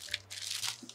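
A plastic bag crinkles briefly up close in a sewing studio shed, a short burst of crisp rustling over a faint hum.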